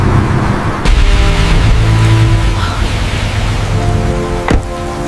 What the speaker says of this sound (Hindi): बारिश तेज है